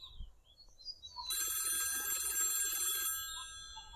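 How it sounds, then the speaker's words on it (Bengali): A phone rings during an outgoing call: a bright electronic ringtone starts after a quiet second, holds steady for about two seconds, then cuts off, with low background noise and no speech. "ভাইপোকে ফোন করি।"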